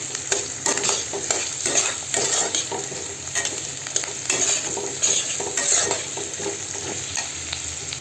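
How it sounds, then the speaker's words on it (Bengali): Onion fries in hot oil in a pan with a bright, constant crackling sizzle, up close and fairly loud, broken by frequent quick scrapes and clinks of a spatula stirring against the metal. No one speaks. "তেলটার মধ্যে পেঁয়াজটা দিয়ে দিলাম। পেঁয়াজটা একটু ভালো করে ভেজে নেবো"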